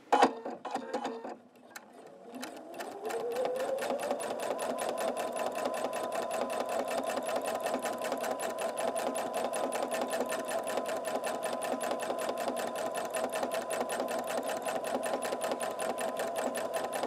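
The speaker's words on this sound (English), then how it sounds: "I'm going to quilt just the center section" A sewing machine free-motion quilts the center of a quilt with a titanium needle and silky rayon top thread, running in a steady, fast stitching whir after a brief start-up and continuing alone throughout.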